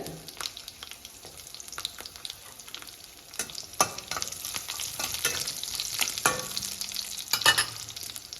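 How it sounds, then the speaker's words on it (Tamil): Cumin, ginger and garlic fry in a pan with a continuous close sizzle broken by repeated spatula scrapes and stirring knocks, no voices present. "இப்போ இதில் கூட சீரகம் கொஞ்சம் சேர்த்திக்கலாம் சீரகம் சேர்த்திட்டு கொஞ்சமாக இஞ்சி பூண்டு"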